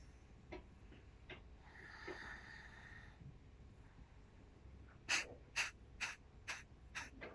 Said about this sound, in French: je vais essayer de faire 10 ou 15 expires très très sèches